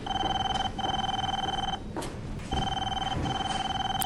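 Telephone ringing in a TV show, an electronic warbling ring in two sustained bursts separated by a brief pause, moderately loud over a faint background hum.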